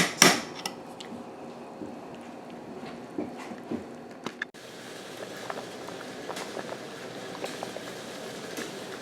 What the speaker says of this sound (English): you're going to cook it until it's done and let it simmer before we put it in the jars